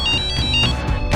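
A telephone ringtone sounds twice in quick succession, a steady electronic tone close by, ringing alone with no talking.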